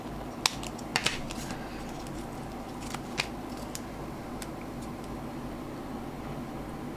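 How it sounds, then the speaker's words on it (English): Scissors trimming small paper pieces from a houseplant-themed paper craft kit, a few faint, brief snips over a quiet room hum, close by. "Put one back in again, because I'm just going to trim"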